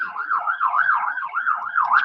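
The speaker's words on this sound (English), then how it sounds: "that's the ambulance going up the road" An ambulance siren wails steadily in a repeating rise-and-fall pattern as the vehicle drives up the road, fairly loud and continuous with no talking over it.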